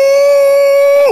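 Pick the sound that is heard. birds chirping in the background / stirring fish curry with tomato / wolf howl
wolf howl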